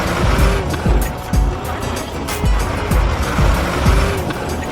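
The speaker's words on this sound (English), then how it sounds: "Cars chasing each other closely." Cars race one another closely, engines roaring and revving up close while tires squeal in repeated short swooping bursts, loud and continuous with no voices.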